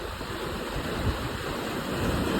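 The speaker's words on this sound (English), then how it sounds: "Splash, that wave just hit." A wave splashes and washes in a steady, close rush of water noise that holds evenly for a couple of seconds, with no voices.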